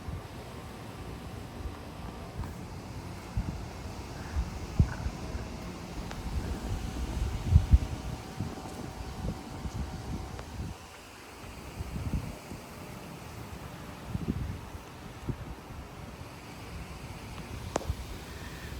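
Strong wind gusts rushing through backyard trees, including a Bradford pear, in Frisco, Texas, a steady broadband roar with surging bursts and low buffeting on the microphone, no talking.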